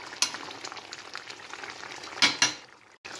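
Fish Konkani masala with tomato bubbling and sizzling in a pan, a steady close simmer punctuated by a few sharp spatters and a stir of the spoon, no voices.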